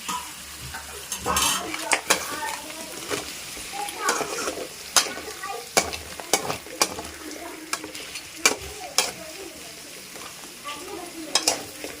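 Mud crabs fry and get stirred in a pan for a festive crab curry, with a continuous sizzle under repeated sharp clinks and scrapes of a metal spoon against the pan at an uneven rhythm.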